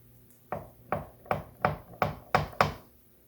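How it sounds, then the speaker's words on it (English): Pastry for an Aussie meat pie cut against a board, seven evenly spaced firm knocking thuds, close and distinct. "And cutting that pastry."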